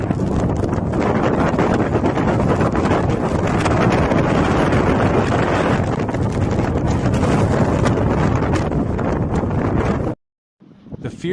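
Fierce blizzard wind gusts roar continuously in the Hulunbuir region of China during a heavy snowstorm, a loud, sustained buffeting that dominates for about ten seconds before cutting off abruptly, then briefly resuming.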